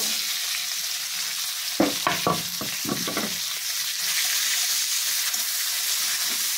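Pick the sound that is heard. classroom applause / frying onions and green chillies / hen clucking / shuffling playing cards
frying onions and green chillies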